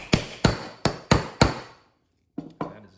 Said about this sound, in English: you just hammer this on down